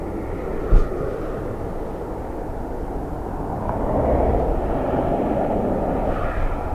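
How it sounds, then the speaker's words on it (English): Airbus A321neo or A321XLR jet taking off from Dublin Airport on the far side, a steady, distant low roar that swells slightly toward the end, with a brief thump near the start. "It's either a 321 Neo or one of the XLRs gone out the far side by the sound of things"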